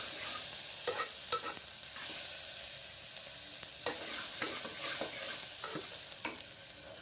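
Onions sautéing and being stirred in a home kitchen pan, a steady hiss of frying with repeated scraping clicks of a spoon throughout, fairly close and with no talking.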